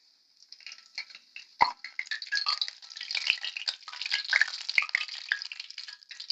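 Potatoes frying in hot oil in a home kitchen pan, a dense, steady crackling sizzle that builds and stays busy, with a few sharp clicks along the way and no talking.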